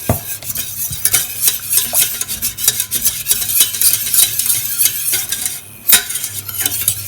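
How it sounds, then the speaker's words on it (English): A whisk stirs roux in a pan for a pasta bake, scraping and clinking rhythmically against the metal in quick repeated strokes, with a low frying sizzle underneath and no talking. "you are whisking it to get rid of any lumps"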